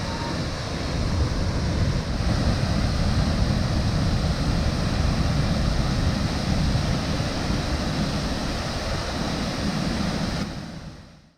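A 43-foot waterfall in Newfoundland pours into a deep pool, giving a loud, steady, broadband roar that holds constant for about ten seconds before cutting off abruptly.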